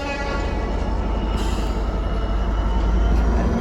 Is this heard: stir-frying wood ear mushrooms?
no